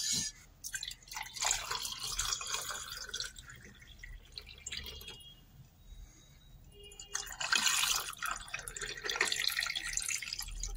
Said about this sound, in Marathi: आता हे ओतूया सरबत आपल्या याच्यात